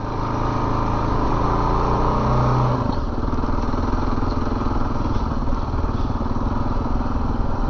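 A 2022 Kawasaki KLR 650 motorcycle engine runs loud and close in first gear on an off-road ride, with a steady, rough, throbbing drone and a brief gear or pitch shift partway through.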